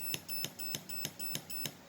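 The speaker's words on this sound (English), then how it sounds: "There you go, 6 beeps." Six sharp electronic beeps from a Perun AB++ airsoft trigger board being programmed, evenly spaced in quick succession, loud and close, with no talking.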